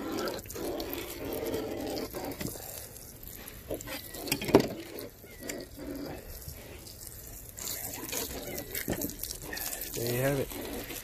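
Water runs from a tap while guitar fish are filleted, a steady splashing patter under people talking throughout.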